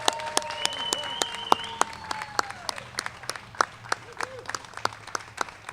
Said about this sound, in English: let's have a round of applause for this year's winner of National Grid's 2017 Leadership and Sustainability Award,